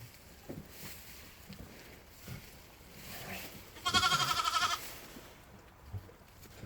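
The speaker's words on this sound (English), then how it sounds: "She, the new ewe lamb, is all of about 15 minutes old." A newborn ewe lamb, only minutes old, gives one clear, fairly close bleat partway through, surrounded by quiet rustling and faint background movement.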